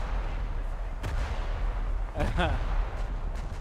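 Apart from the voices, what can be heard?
battleship guns firing HE shells in a video game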